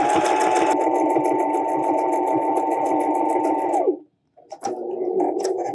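A sewing machine stitching a cloth face mask runs in a loud, fast, rhythmic chatter close by, stops abruptly for a moment, then starts stitching again more slowly.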